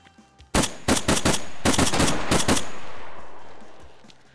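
Gunfire in the survival video game DayZ: a rapid series of loud, close shots in quick bursts over about two seconds, with the echo trailing off into quiet afterward.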